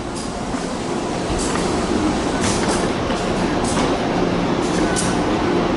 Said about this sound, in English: Whoa, is that my train? Yeah, that one's my train.